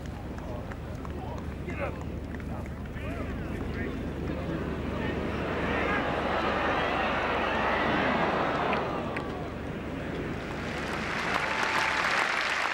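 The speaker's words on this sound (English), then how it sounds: "the crowd gave Watts a deserved ovation" Golf gallery at Royal Birkdale's 18th green during the 1998 Open, a broad sustained ovation of clapping and cheering that swells and holds for several seconds, with wind noise buffeting the microphone.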